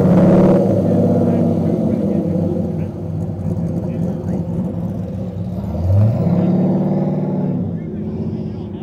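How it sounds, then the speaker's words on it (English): A Corvette idles and revs at a cars-and-coffee show, a steady low engine rumble with a brief rising rev partway through, people talking over it. "That, I believe, is a Corvette."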